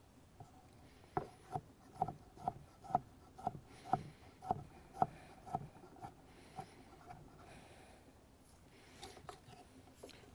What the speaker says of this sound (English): Dice them up nice and fine.